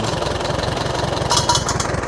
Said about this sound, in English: Power Crater engine.